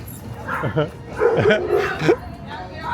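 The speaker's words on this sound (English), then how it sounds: "Barking." Several dogs barking and yipping in short bursts, fairly close, with a busy outdoor background.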